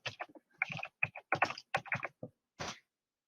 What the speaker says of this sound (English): So let's type in the date.